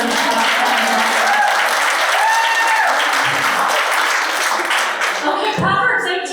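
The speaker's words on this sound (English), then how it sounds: "Ladies, let's give George a round of applause." An audience applauds for George at a ministry meeting, loud sustained clapping throughout with a few voices calling out over it.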